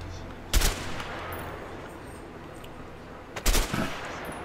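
Two short, sharp bursts of gunfire from a weapon in the video game A Way Out, spaced about three seconds apart over a quiet background.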